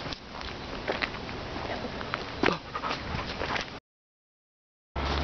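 A dog whimpers and pants close to the microphone in steady, breathy bursts with a few higher whines. The sound cuts to a brief silence and then returns.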